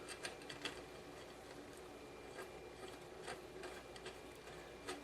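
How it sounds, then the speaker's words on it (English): Small screws being started by hand into the valve body of a Mercedes-Benz W202 C-Class automatic transmission, giving faint, close metallic clicks and ratchet-like ticks in scattered bursts over quiet background. "So I'm just gonna start the screws"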